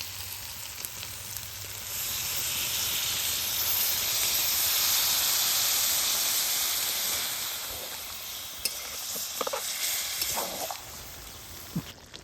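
Water poured into a hot pan of chicken and banana stalk sets off a loud, steady sizzle and hiss that swells and holds, then eases into softer bubbling with a few stirring clinks near the end.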